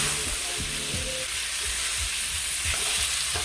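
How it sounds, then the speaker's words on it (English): Pumpkin pieces stirred into a hot frying pot for pumpkin rice, a constant loud hissing sizzle with several low thumps and scrapes of the spoon mixing, close by, no talk. "I'm going to go in with those pieces of pumpkin and mix it up."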